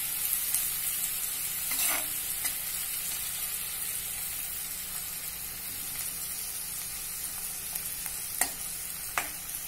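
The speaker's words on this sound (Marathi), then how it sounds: "बारीक चिरलेला हा कांदा, एक वाटीभर बारीक चिरलेला कांदा आहे, मध्यम आकाराचे 2 कांदे मी चिरून घेतले होते बारीक, तो आपण सोनेरी रंगावर होईपर्यंत छान परतून घेऊया" Finely chopped onion sautéing in a pan for dhaba-style whole masoor curry, a steady close sizzle with occasional scraping stirs and light clicks of a spoon.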